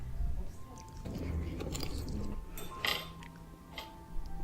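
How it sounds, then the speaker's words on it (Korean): A treat dipped generously in grain syrup is bitten and chewed, with soft close crunches and sticky squishy chewing sounds over a few seconds, quiet and intimate. "마무리는 조청을 듬뿍 찍어서 한 입에 먹어줍니다"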